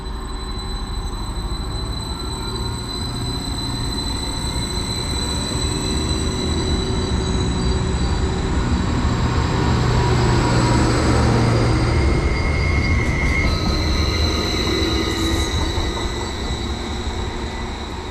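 A Class 231 train departs a platform at Quakers Yard in South Wales on a service to Aberdare, a steady loud rumble of rolling stock with high wheel squeals and whines throughout, no talk.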